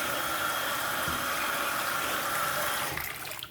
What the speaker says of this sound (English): Is it draining? Yes, it's draining.